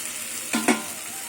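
A steady hiss of fried potatoes sizzling in hot spiced oil, with a brief stirring scrape partway through.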